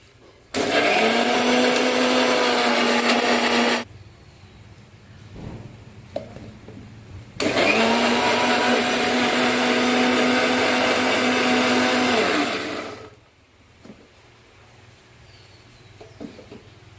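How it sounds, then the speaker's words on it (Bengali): A mixer grinder whirs loudly as it blends whole spices with peppercorns and garam masala into a paste, running in two long bursts of about three and five seconds. A quiet pause separates the bursts and faint kitchen noises follow. "একসঙ্গে সবগুলোকে আমি মিক্সারে পেস্ট করব।"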